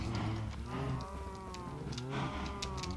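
A Minecraft cow in a modded FTB world moos twice, each call a long, low, drawn-out tone with a short pause between them, and no voices over it.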